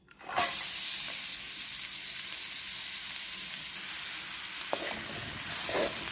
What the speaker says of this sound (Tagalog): ilagay ko yung bawang at saka sibuyas